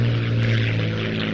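P-51 Mustang and Messerschmitt Bf 109 piston-engine fighters at an airshow, a steady loud propeller drone holding for a brief moment without a break.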